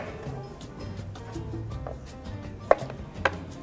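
A knife chops white onion and celery finely on a board for chicken salad, with soft steady cuts and two sharper knocks near the end.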